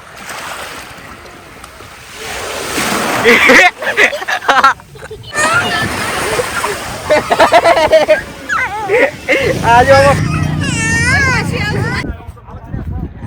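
Sea waves washing up on Mandvi beach in Gujarat, surging and splashing close by while several people talk and call out loudly over the surf.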